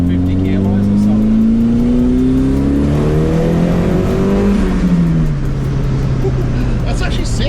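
A CA18-powered roll racing car at Roll Racing Sydney revs hard and close, its engine note climbing then dropping back as the throttle eases, with a voice faintly audible beneath.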